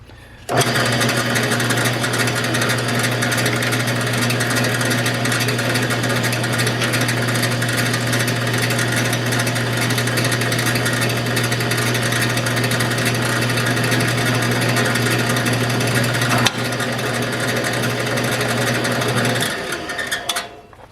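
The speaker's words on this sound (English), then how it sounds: "we're going to go ahead and just put a 5/8 hole through it" Power drill boring a 5/8 inch hole through a 2-inch square block of HDPE board, a steady loud whine with a strong low hum that runs continuously for about eighteen seconds, briefly dipping near the end before stopping.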